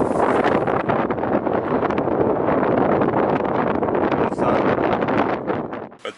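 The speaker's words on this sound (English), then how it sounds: "it's really gusty today" Strong gusty wind buffets a sailboat at anchor, a loud continuous rushing roar with surging gusts that fills the whole stretch and eases off near the end.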